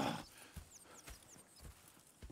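Horses in the video game Red Dead Redemption II clop along in a steady walking rhythm of distinct hoof strikes, with a brief whinny-like sound near the start and some light rustling; no talk.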